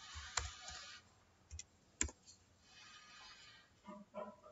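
A few sparse, quiet clicks from a computer keyboard as a single command is typed into an interactive Node.js console, with isolated keystrokes spread out and little else around them.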